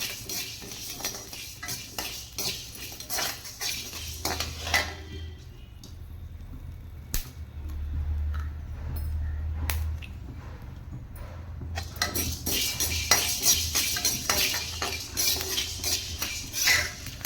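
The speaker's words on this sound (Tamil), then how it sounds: "இந்த மாதிரி நல்லா ப்ரௌன் கலர் வர வரைக்கும் நான் நம்ம வறுத்திக்குவோம் இது வந்து நல்லா பொரியும்" Millet grains roasting and being stirred in a pan until they brown and pop, with scraping and light clinking of a utensil against the pan at close range and a steady low hum beneath.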